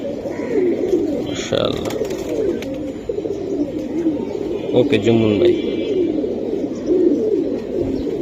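Homer and other fancy pigeons coo repeatedly close by, soft throaty bubbling calls layered under someone talking at a pigeon sale.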